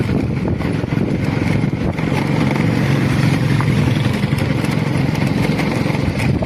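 A motorcycle engine runs steadily while carrying a passenger on the back, a loud, close, continuous rumbling drone with wind noise throughout and no talking.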